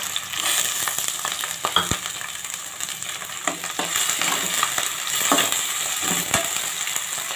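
Chicken pieces fry in a pan with onions that have already browned. A dense, steady sizzle runs throughout, with frequent close spatula scrapes and clinks against the pan. No one speaks.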